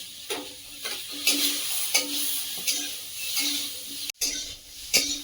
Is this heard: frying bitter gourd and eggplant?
yes